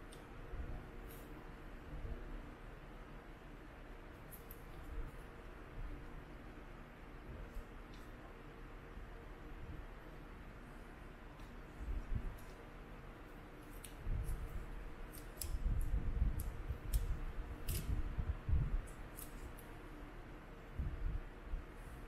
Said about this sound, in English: making sure you are peeling off the sticker off the